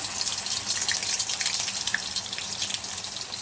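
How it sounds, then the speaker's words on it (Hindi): A sabudana vada sizzles in hot cooking oil, a dense continuous crackle and hiss at steady moderate loudness close by, with no voices. "फ्रेंड्स, ऑयल हमारा गर्म हो गया है। इसमें हम एक बड़ा डालते हैं।"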